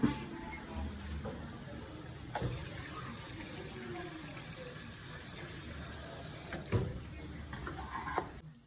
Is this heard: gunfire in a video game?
no